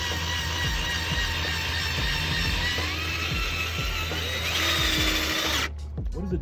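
A power drill runs continuously while boring into a car side skirt body kit on an Infiniti G35 Coupe, a loud steady whine with faint clicks under it, cutting off abruptly near the end.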